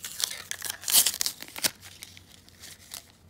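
Crinkly tearing and rustling as an ORICO 2.5-inch USB Type-C hard drive enclosure is pulled out of its packaging, a quick burst of close crackles easing into softer handling noise.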